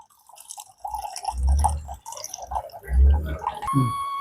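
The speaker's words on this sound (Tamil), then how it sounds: "இப்போ வந்து நாங்கள் ரெண்டாம் பாலை புளிஞ்சு மண் சட்டியில் தான் விட்டுக்கொள்கிறேன்" Second-press coconut milk squeezed by hand from grated coconut trickles and drips into a clay pot in uneven bursts, close and fairly quiet, with soft wet squelching between pours.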